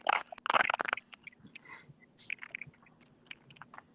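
Someone crunching food close to an open microphone during an online comedy game show: a burst of loud, crisp bites and chews at the start, then softer scattered chewing clicks and breaths.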